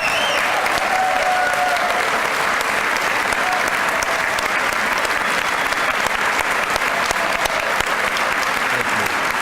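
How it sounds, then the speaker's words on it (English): A large crowd gives sustained, loud applause at a Coast Guard recruit graduation at Training Center Cape May. The dense, even clapping runs for the whole stretch, and faint voices sound briefly near the start. "Ladies and gentlemen, would you please join me in a round of applause for the entire staff here at Training Center Cape May?"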